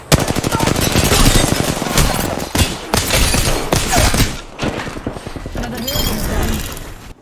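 Loud, rapid automatic gunfire from a shooter video game, with dense continuous bursts, sharp repeated shots and brief pauses between volleys, filling the whole stretch.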